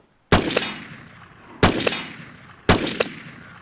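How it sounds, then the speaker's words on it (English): Three sharp gunshots fired in the game Vigor, each a loud crack with a short metallic ringing tail, spaced about a second apart with no talking. "Watch where I aim, and watch where I shoot."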